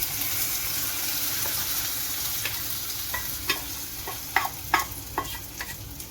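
Mustard seed tempering poured into a ripe mango curry, giving a steady loud sizzle with a few sharp crackles and pops toward the end.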